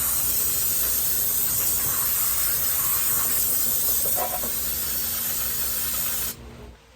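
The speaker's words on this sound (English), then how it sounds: "we'll Get our brake parts cleaner, spray it down, get it cleaned up real good" An aerosol can of brake parts cleaner hisses in a long continuous spray onto truck parts, close and steady for about six seconds before cutting off.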